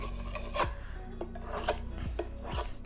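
A cheap kitchen knife drawn across a coarse whetstone, three or four distinct rasping strokes in steady rhythm, close and clear with no talk.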